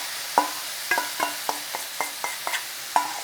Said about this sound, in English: We just need to bloom out the spices in there with that onion, garlic, ginger mix.